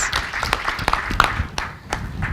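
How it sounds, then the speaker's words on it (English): An audience at a session on sport and healthy behaviour applauds young leaders, a brief burst of scattered clapping over a noisy room rumble. "A huge round of applause for these young leaders"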